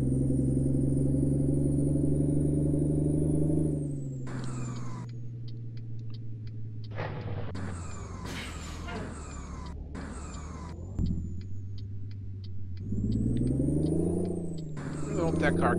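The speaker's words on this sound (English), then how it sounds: "coming through here with an extra long trailer on this truck would be a nightmare" A heavy truck engine in Euro Truck Simulator 2 drones low and steady, hauling an extra long trailer, with gear shifts, revving changes and bursts of other game sounds, while someone talks over it throughout.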